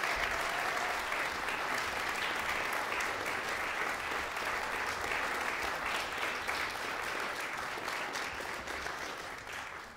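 Sustained audience applause following a contemporary music ensemble performance, a dense, even wash of many hands clapping in a concert hall, steady throughout and easing slightly at the end.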